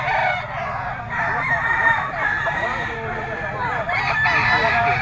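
Gamefowl roosters brought by a breeder crow repeatedly over a busy farmyard, with overlapping cock-a-doodle-doos, clucking hens and a background voice.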